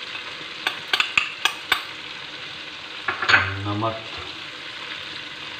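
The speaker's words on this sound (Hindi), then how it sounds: "इनको डाल के अच्छी तरह मिक्स कर लेंगे।" A spoon stirs spices into chicken white karahi in a pan, a few sharp clinks against the pan followed by a brief burst of sizzling and scraping, moderately quiet with a short spoken word.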